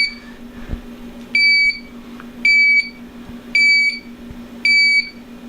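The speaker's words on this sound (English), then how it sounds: "As soon as it crossed 200 parts per million, guys, we got all the alarms kicking." A GZAIR SA103 portable carbon monoxide detector alarm, triggered above 200 parts per million, sounds in four evenly spaced piercing beep bursts, each about half a second long, loud and close over a low steady hum.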